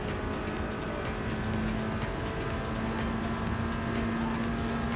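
A race car engine in Gran Turismo Sport drones loudly and steadily as it revs out of fourth gear into fifth, with a clear change in engine pitch partway through and no break in the roar.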